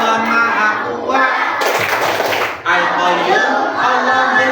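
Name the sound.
class clapping rhythm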